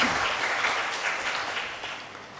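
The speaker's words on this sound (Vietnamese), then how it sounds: "Chúng ta cùng vỗ tay chúc mừng quý chị." Applause from a church gathering honoring nuns at an archbishop's reception, a steady wash of many hands clapping that slowly fades, moderately distant.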